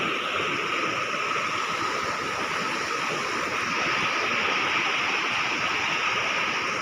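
A village river swollen after heavy rain, flowing as a steady, dense broadband rush that stays loud and continuous throughout, with no voices.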